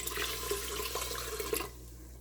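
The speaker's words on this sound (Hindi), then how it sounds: "मैं 2 कप पानी और इसमें ऐड कर दूँगी" Water pours from a cup into a pot of whole green moong dal before pressure cooking, a short, soft splashing trickle that stops abruptly near the end, with no talk.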